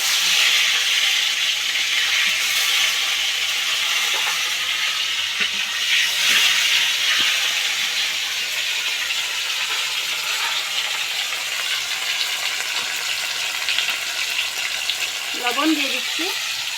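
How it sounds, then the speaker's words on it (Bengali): Chopped tomato sizzles and crackles steadily in hot oil in a wok for a Bengali prawn malai curry, a continuous close, bright frying hiss with occasional stirring, no voices. "কড়াইতে তেল দিয়ে দিয়েছি, এখন টমেটো কুচি দিয়ে দেবো।"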